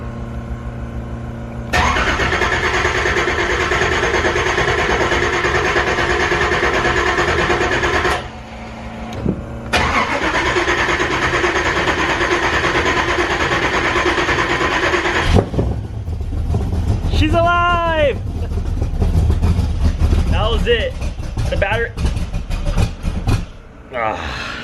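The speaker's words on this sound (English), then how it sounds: "Let's go ahead and fire her up. Listen to this." A Z06 Corvette with long tube headers and exhaust being started: two long stretches of loud, steady cranking noise with a short break between, then the engine catches into a rough, rumbling idle with revs rising and falling. Voices are heard during the attempt.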